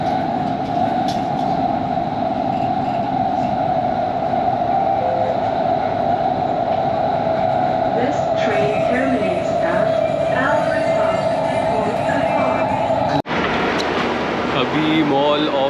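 Steady rumble of a nearly empty Doha metro train in motion during the 2022 FIFA World Cup, a constant hum with rattling carriage noise and faint voices in the background, ending in a brief shift of sound near the end.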